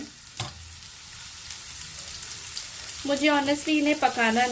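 Sliced mushrooms hit hot oil in a pan and are stirred, giving a soft, low sizzle at first; a voice joins partway through and carries on over the frying.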